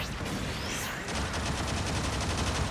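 Mobile Suit Gundam game machine gun firing in a rapid, even burst of shots that runs on after a brief swooping sound, loud and continuous with no talk.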